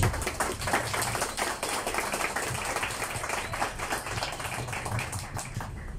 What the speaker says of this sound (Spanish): Quisiera un aplauso para ellos.